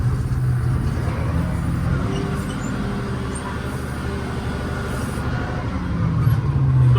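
A LOVOL 130 tractor drives along a field with a raised Veles Agro PON3+1 reversible plough, its engine droning loud and steady with a low rumble that swells slightly near the end.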